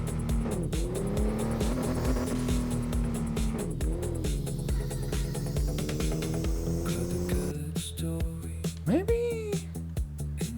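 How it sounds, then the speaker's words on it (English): A racing video game car engine drones steadily with rising and falling pitch and tire squeals, while a voice talks over it throughout. "this is not a very loud engine"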